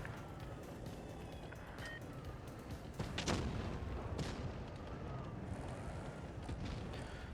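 A single heavy tank cannon shot, from a WZ-114 tier IX heavy tank in the video game World of Tanks Blitz, booms once near the middle over a steady rumbling battle-noise bed.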